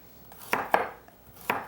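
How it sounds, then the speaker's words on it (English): A knife chops food for stir fry on a board, with a few sharp, close, uneven strikes over a quiet background. "you're chopping straight up and down"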